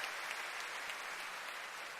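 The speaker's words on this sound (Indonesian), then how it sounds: "Tepuk tangan untuk Pak Nurdin" A studio audience on an Indonesian talk show applauds for Pak Nurdin, a faint, even wash of many hands clapping heard from a distance, steady for a couple of seconds with no voices on top.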